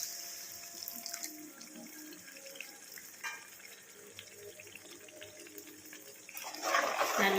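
Tamarind water poured into a simmering fish curry of vanjaram fish, a steady watery pour and splash running throughout, loudest near the end, with no talking.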